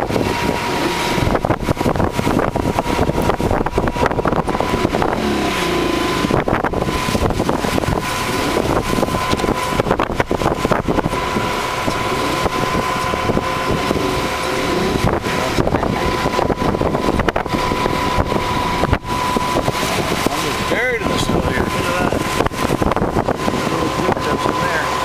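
Car ploughing through more than a foot of heavy wet snow during a March storm in London, Ontario, its engine droning loud and steady with constant rough rumbling and scraping underneath for the whole stretch.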